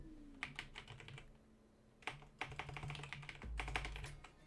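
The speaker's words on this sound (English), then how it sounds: "My keyboard things are like really loud" Loud clacking of a computer keyboard, fast bursts of keystrokes that pause and resume, with a low background hum and a short musical tone near the end.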